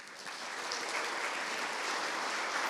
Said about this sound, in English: Now, everyone clap your hands.